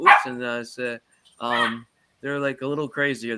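Several sharp, close puppy barks and yips, in bursts with short gaps, with someone speaking between them.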